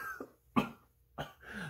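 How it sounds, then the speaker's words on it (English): Two short, sharp coughs, spaced apart, with a faint throaty sound just before them; close and fairly quiet. "I've been coughing like crazy."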